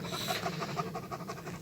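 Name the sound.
dog panting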